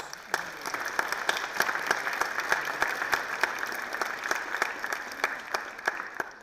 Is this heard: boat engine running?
no